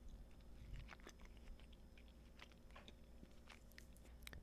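Close, quiet crunching of hard Chanukkah chocolate being bitten and chewed, with irregular crisp cracks and wet mouth sounds over a soft steady background and no talk.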